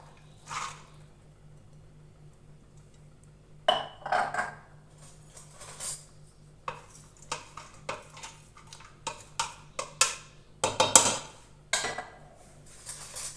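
Chopped onion tumbling onto lamb in a tagine pot, giving a run of close clattering knocks and scraping taps against the pot that build and quicken toward the end, with no one talking.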